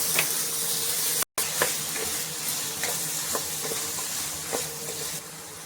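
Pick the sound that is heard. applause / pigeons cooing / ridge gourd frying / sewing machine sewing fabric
ridge gourd frying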